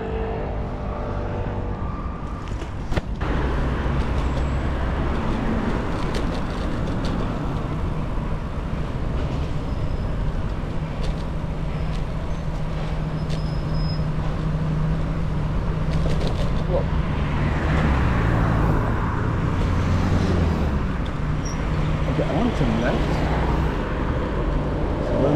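Steady car traffic on Boulevard Raspail in Paris, a continuous rumble of passing vehicles heard from a bicycle, with a few brief louder passes and a person talking over it.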